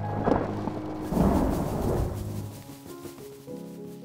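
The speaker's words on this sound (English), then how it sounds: "It was thunder." Thunder rolls in a low rumble with two swelling bursts that fade out, and a soft tonal music bed runs underneath.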